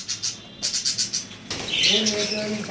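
Young budgies chirp in quick bursts and flutter their wings as they are released into a cage on a bird farm, with the chirps growing busier and closer partway through.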